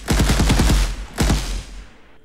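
Rapid automatic gunfire sound effect from a third-person shooter built in Unreal Engine: a burst of about six sharp, booming shots, a pause, then a couple more, loud and close with a decaying tail.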